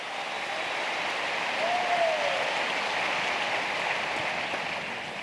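Audience at a Rainbow Wahine volleyball event applauding a coach, a continuous even wash of clapping heard from a distance, steady with no breaks and no speech.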